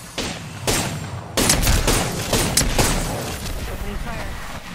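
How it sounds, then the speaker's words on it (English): Video game gunfire crackles in repeated sharp bursts and volleys, loud and close, with a busy layer of in-game sound running underneath. "Opening fire."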